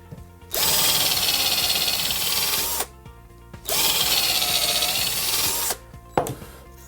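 A power drill whines steadily for about two seconds while drilling a pilot hole in a wooden pallet, stops, then runs again for another two seconds, followed by a brief clunk.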